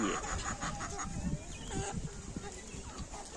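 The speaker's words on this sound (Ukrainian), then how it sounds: "декілька молодих курочок від них все-таки є" A few young hens in a farmyard poultry flock cluck close by amid other barnyard stirrings and low background noise, with some voice-like sound mixed in.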